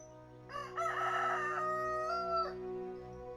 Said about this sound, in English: symbolic rooster that crows when I go to bed